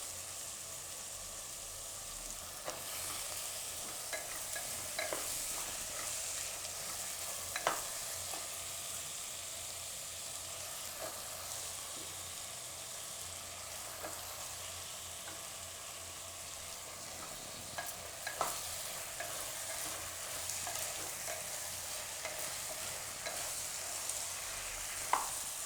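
Potatoes sizzle steadily in a pan on the stove for a Gujarati potato and chana dal curry, with occasional soft scrapes and clicks of a spoon stirring through a constant frying hiss.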